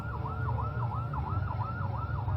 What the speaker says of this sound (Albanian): Ose ambulanca kërkon të kalojë.